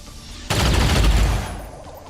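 A sudden burst of rapid gunfire in the XCOM 2 video game, a loud fusillade lasting about a second before tailing off into quieter rumble.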